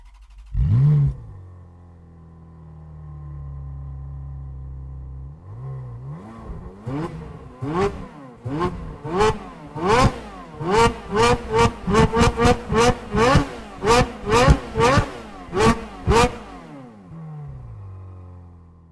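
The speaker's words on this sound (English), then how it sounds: "it would be an automotive sin to have an F430 Scuderia present and not record its sweet exhaust note" A Ferrari F430 Scuderia exhaust note, starting with a sharp start-up bark and idle, then a long series of rapid, loud revs that rise and fall in quick succession before dropping back to a low idle, close and alone.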